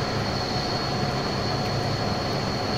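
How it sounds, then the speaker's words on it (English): An F40PH passenger locomotive hauls a train in Train Sim World, giving a steady, loud rolling rumble of wheels on rail with a sustained high whine over it, continuous and close, with no talking. "since this train's not very fast."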